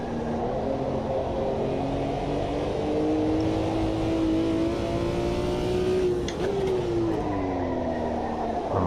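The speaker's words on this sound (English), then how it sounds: "I'm starting to lock up now." A BMW M1 Procar in the AMS2 racing game at Interlagos '76, engine droning loud and steady with a rising, falling pitch as the tires lock up under braking, a brief scrub near the end.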